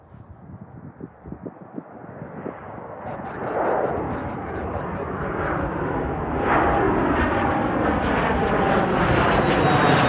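Endeavor airliner inbound from Minneapolis passes overhead with a loud, building roar. The engine noise swells steadily and then holds a broad rush with a rising whine, while a faint voice speaks underneath.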